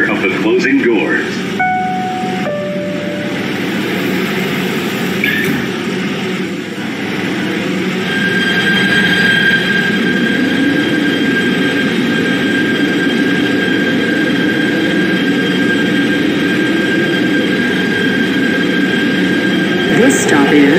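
A Kawasaki PA-5 PATH train runs from Hoboken toward 33rd Street in the Roblox game, giving a steady, loud rumble of wheels and motors. A high electric whine rises and holds through the second half, with brief tonal chimes near the start.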